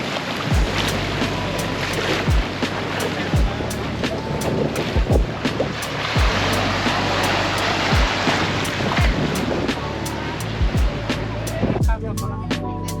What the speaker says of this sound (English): Just walking around, checking out the beach.